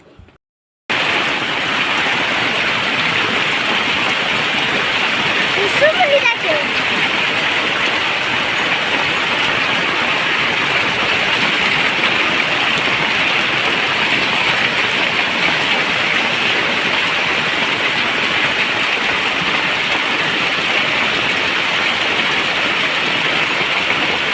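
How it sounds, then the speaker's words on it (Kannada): Heavy rain and wind, a steady loud broadband roar that holds unbroken for over twenty seconds with no voices. "ಮಳೆ ಬರ್ತಾನೆ ಇದೆ ಗಾಳಿ ಮಳೆ ಬರ್ತಾ ಇತ್ತು"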